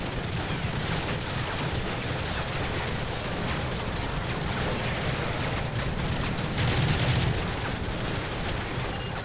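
Dense gunfire and explosions in Call of Duty: Modern Warfare 3, a continuous, loud barrage of overlapping shots with no clear pauses.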